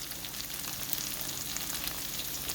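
Ground lamb rice balls fry in a pan with a steady, bright sizzle and crackle of hot oil, close and even throughout with no talking.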